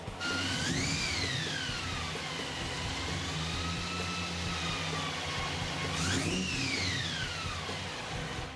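A 1957 Chevy with a supercharged 6-71 blown small-block V8 idles with a low, lumpy rumble. Two revs send a rising and falling supercharger whine over the steady engine drone.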